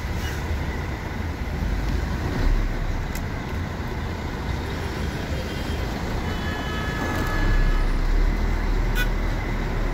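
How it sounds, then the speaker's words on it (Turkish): Stop-and-go traffic in an Istanbul jam, a steady low road rumble of idling and creeping cars heard from inside a vehicle, with a faint hiss and slight swells as nearby vehicles move. "Normal İstanbul trafiği çakılı"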